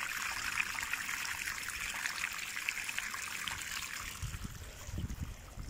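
Pond waste water from a filter system trickling out onto a patch of grass outdoors, a faint, continuous dribbling and splashing that stays low and even throughout, with a slightly louder gush toward the end.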